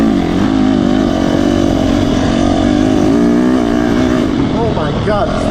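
A Yamaha YZ250FX dirt bike in second gear revs loud and close, its engine note rising and falling continuously with light throttle, a steady roaring drone with a few wavering pitch sweeps near the end.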